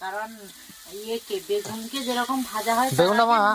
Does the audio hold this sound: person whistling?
no